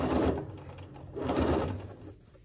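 A Bernina sewing machine stitches placemat pieces together in two short bursts of rapid, close mechanical chatter, the second run slightly longer, with a quiet gap between.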